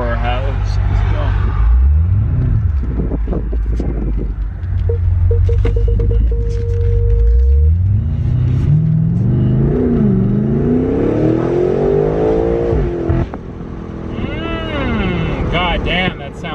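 A 2020 BMW M8 Competition engine revs hard and accelerates, the pitch climbing through gears with a loud deep roar close by, while people talk over it.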